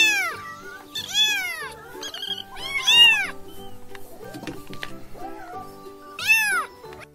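Close, clear cat meows in a children's alphabet phonics song, four or five rising-and-falling cries spaced a second or two apart, with faint tones between them.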